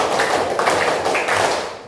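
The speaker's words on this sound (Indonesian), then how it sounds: "tepuk semangat" An Indonesian primary classroom claps the rhythmic spirit clap (tepuk semangat) during a teaching-practice lesson: dense, continuous, close group clapping with steady patterned beats and no talk over it.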